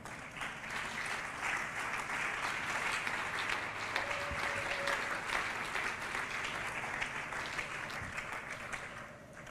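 Congregation applauding during a church service, a dense, steady wash of clapping lasting throughout, somewhat distant and even in loudness.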